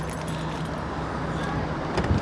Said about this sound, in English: Let me find my van keys.